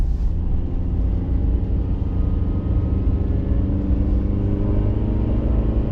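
A Chevrolet MW G Selection (ME34S, 2WD) running while driving on a road, its engine a steady, thick low rumble with a slightly muddy, American-style tone, continuous and close throughout with no talking.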